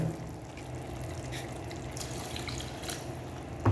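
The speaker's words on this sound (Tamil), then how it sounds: "தண்ணி ஆட் பண்ணிவிட்டேன்" Water splashes and trickles steadily into a pan of cooking kadai chicken, a soft continuous pour with a faint sizzle underneath, close by and fairly quiet.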